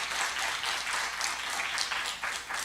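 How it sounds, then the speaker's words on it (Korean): Steady applause from an audience at a Korean organisation's award and appointment ceremony, moderately loud with clustered claps and no talking. "다시 한번 축하의 박수를 크게 부탁드립니다."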